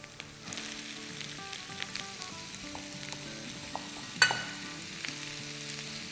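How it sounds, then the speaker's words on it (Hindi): Small diced potatoes sautéing in a pan, a steady close sizzle with light stirring scrapes and one sharper clack of the utensil, no talking. "और आलू को हम सौटे करेंगे अराउंड 2-3 मिनट"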